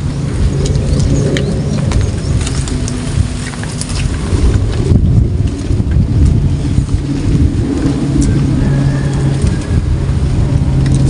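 Strong wind roars continuously and loudly at an outdoor airgun hunting spot, a dense, unbroken rush with no talking.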